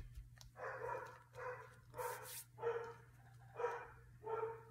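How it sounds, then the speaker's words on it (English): A dog barks repeatedly in a steady series of about six sharp barks, fairly close, over a low constant hum. "Oh, Bailey is barking."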